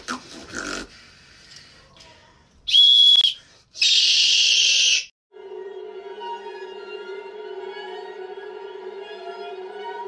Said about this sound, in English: which can make a higher pitch noise. Is it the whistle?